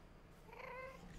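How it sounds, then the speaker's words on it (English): Eerie cat-like wails from a ghost cat in the video game Minecraft sound faintly in a brief rising and falling cry over low background hum. "Terrifying ghost cat sounds."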